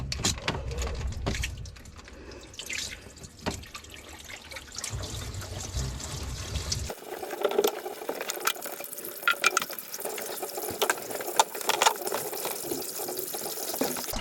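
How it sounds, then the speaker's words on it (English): Water drains from the engine block drain plug of a Moomba wake boat with an Indmar engine during winterizing, a continuous close trickle and splatter onto the bilge floor that shifts in tone partway through. "let's see how much water we can dump on the floor in here."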